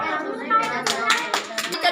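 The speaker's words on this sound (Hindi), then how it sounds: "ताली भैया" Children in a school class clap their hands together, a brief patter of quick claps rising after a moment of talk.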